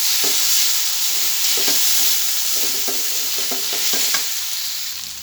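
Chicken frying in a pan with ginger, garlic and cumin paste and garam masala, a loud continuous sizzle broken by repeated scraping stirs of a utensil against the pan, close up with no talk.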